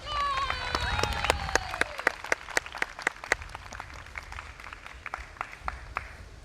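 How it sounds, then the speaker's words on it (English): Audience applause for actors at a 20th-anniversary Midsummer stage show: a steady wash of clapping with sharp individual claps, and a voice and brief tonal sounds heard at the start. "Give them some applause."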